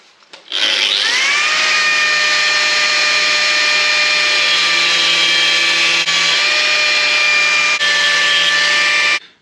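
A power tool grinding down a screw for a shock absorber fitted to an Air Connectée; a loud, steady high-pitched motor whine spins up quickly, holds for about nine seconds with slight pitch shifts, then cuts off.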